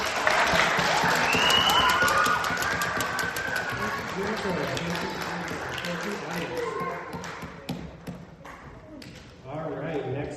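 Audience applauding at a band presentation, clapping loud at first then thinning out, with talk and background chatter running underneath.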